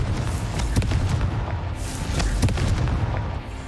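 A Confringo fire spell blasts in the Hogwarts Legacy video game, giving a run of deep booming explosive thuds with a rumbling low roar that carries loudly through the whole stretch.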